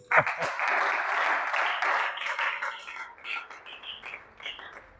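A church congregation breaks into sustained applause, a dense wash of clapping that swells quickly and then tapers into scattered claps, with voices calling out beneath it.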